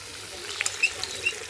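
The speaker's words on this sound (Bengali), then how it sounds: "এখন ডিমটা দিয়ে দিই।" An egg sizzles and crackles in a hot pan with small sharp pops and spits over a soft frying hiss, close and fairly quiet.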